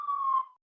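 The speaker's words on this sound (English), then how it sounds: "sorry about the sirens." An emergency vehicle siren heard from outside, a single steady wailing tone that holds briefly and then fades away into silence, with no speech over it.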